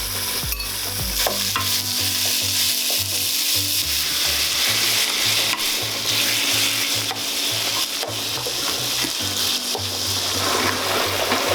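Onions sizzle and crackle loudly in a hot pan while being stirred. A spoon scrapes and clatters against the pan at uneven intervals, and no one speaks.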